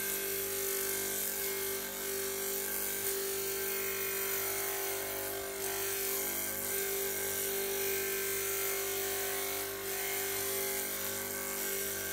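A grinding wheel sharpens the flutes of a helical machine reamer in a workshop, giving a continuous high whine with a strong steady tone, even and unbroken throughout, close up with no talking.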